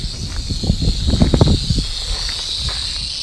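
Western Diamondback rattlesnake buzzing with a steady, dry high rattle at night among grasshoppers, fairly close and loud, alongside rustling and shuffling movements on the ground.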